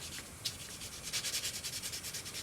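Sandpaper rubbing back and forth over a plastic fan assembly part of a Polar Lights Star Trek Enterprise TOS model kit, a close, quiet, rhythmic scratching in steady strokes with no talking.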